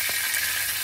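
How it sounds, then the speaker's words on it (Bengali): Fish rubbed with salt and turmeric, hilsa from the same kitchen, sizzles steadily in hot oil, a continuous broadband frying hiss with no talk over it. "নুন হলুদ মাখিয়ে আবার সে ভাজতে বসিয়েছি"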